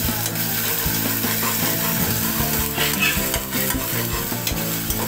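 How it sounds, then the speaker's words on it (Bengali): Onions with sliced green chillies fry in a pan for a fish-head dish, a steady close sizzle with stirring scrapes of a utensil throughout, no talking. "পেঁয়াজগুলোকে একটু ভাজি করে নিচ্ছি।"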